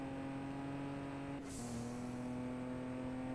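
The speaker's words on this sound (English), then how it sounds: "It's got some satisfying like car noises and nitrous noise." A steady droning car engine hum from the racing game Juiced 2: Hot Import Nights holds its pitch, broken midway by a brief airy nitrous whoosh as the tone shifts slightly.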